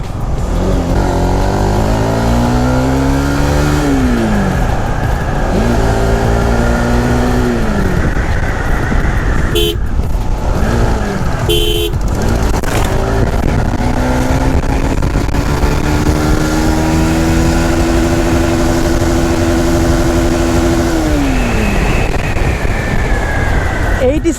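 A Honda CBR 150R motorcycle accelerates hard through its gears on an open road, engine pitch climbing steeply then dropping at each shift in repeated sweeps, loud and close with steady wind noise, and someone talks over it at times.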